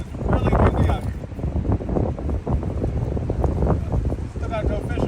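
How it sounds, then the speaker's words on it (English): Strong gusty wind buffets the microphone outdoors while striped bass fishing with a Whopper Plopper topwater lure, a loud continuous rumble throughout the clip. "It's really windy out here."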